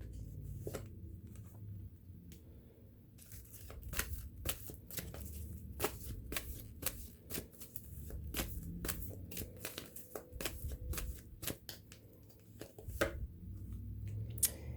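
Tarot or oracle cards are shuffled repeatedly, producing a steady run of crisp riffling and flicking over about fifteen seconds, close to the listener, with no talking.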